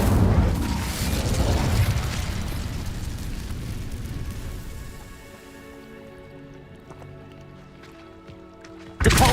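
The Incendio fire spell cast in Hogwarts Legacy, a loud roaring, booming burst of flame that crackles and slowly dies away, leaving faint tinkling game sounds before a sharp new hit at the end.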